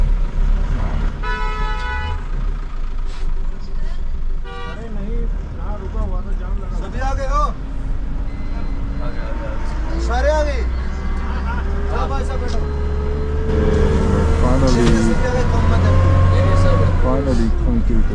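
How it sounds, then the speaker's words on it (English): Cars, trucks and buses crowding through a gate, with repeated horn toots and blaring honks over rumbling engines, and people talking nearby throughout. "Cars and trucks and buses trying to get through the gate."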